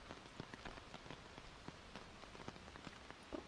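Steady rain patters on surfaces in a video game exploration scene, a dense continuous hiss dotted with distinct drop taps, moderately loud and close with no voices.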